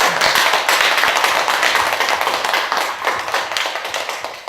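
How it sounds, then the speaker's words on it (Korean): Buddhist temple congregation clapping after a dharma lecture, individual claps distinct and fairly close, a lively burst that gradually thins out. "우리 오늘 시에 동참한 불자들에게 박수 한번 주십시오."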